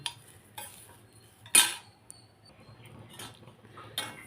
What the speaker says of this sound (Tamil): இந்த தேங்காய் போட்டு இது கூட வதக்கிக்கலாம் லைட்டாக வதக்குங்க